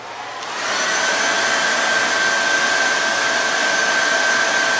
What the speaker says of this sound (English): And I'm going to hit this with my blow dryer.